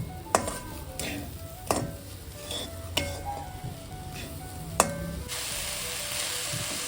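Chopped jaggery melts into syrup in a pan on the stove, a soft sizzle and bubbling broken by several sharp spoon taps and scrapes against the metal, heard up close without talking.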